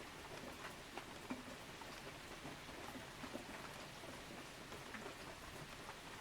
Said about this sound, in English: For me, I know when I listen to rain sounds,